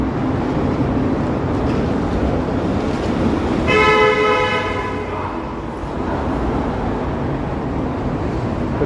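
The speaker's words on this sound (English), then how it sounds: "Truck honked at that person riding their bike" A loud, sustained truck horn blares for about two seconds at a cyclist over steady Toronto road traffic noise, then the traffic rumble continues.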